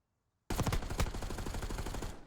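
Rapid automatic gunfire in an esports video game match, a sudden loud burst of dense repeated shots starting after a brief silence and rattling on steadily until the end.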